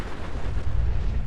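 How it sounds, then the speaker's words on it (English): A rumbling explosion set off for fun in the video game Fallout 4, a sustained low boom filling the whole moment at steady loudness with no talk over it. "Just want to make that explode for fun."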